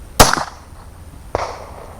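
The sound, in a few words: gunshot from handgun during chronograph reload testing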